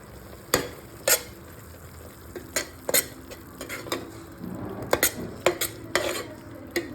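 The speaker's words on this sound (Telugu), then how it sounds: "ఇది మళ్ళీ కలుపుకొని మూత పెట్టుకుందాం." A spoon scrapes and stirs mutton donne biryani in a cooking pot over a slow flame, with sharp metallic clinks and knocks at irregular intervals over a faint steady background.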